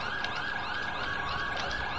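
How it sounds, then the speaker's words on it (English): A wailing emergency vehicle siren from the EmergeNYC fire engine game cycles rapidly and continuously, loud and close throughout. "I love the sirens"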